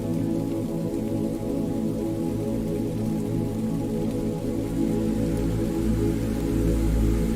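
Steady rain falls throughout, a dense, even wash of patter on a surface with no speech, holding a constant moderate level and swelling slightly louder near the end.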